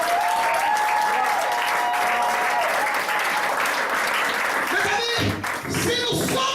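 A church congregation applauds and cheers for Jesus, dense continuous clapping mixed with shouts and voices, loud throughout, with a voice speaking over it near the end.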